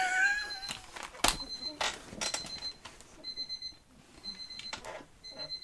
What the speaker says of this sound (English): It was my alarm clock, my analog alarm clock.